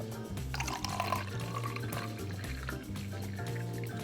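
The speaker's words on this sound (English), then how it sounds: "And fill to the line with some extra water." Water pours steadily into a container, a continuous gurgling, splashing flow heard close up with no talking.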